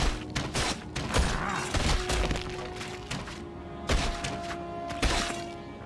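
Combat in the video game Baldur's Gate: Dark Alliance, a series of bow shots with thuds and impacts, irregular bursts of thumping hits and sharp cracks over game background sound.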